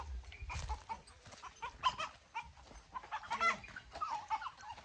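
Chickens on a village farm clucking and calling close by in repeated short bursts over a quiet background, with a child playing among them.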